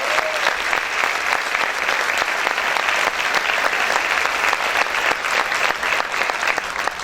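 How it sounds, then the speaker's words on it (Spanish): A church congregation claps loudly and steadily, a dense wash of many hands with crisp individual slaps throughout, close and sustained without pause. "Vamos a aplaudir fuerte al Señor"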